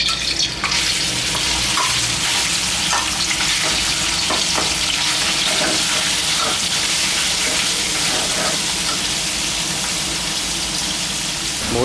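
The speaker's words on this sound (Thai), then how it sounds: "ใส่น้ำมันลงไปนะครับ นำหมูสามชั้นเราลงไปคั่วนะครับ" Pork belly pieces fry in hot oil in a pan, giving a loud, steady, dense sizzle with occasional pops and stirring scrapes throughout, close up.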